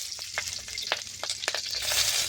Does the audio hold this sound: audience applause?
no